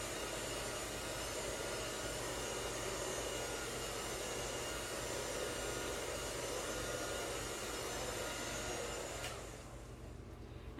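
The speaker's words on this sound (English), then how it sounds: "I'm feeling where the blow dryer is hitting me." A blow dryer drying hair during a blowdry and styling session, a steady loud close whooshing roar that runs continuously and drops away near the end.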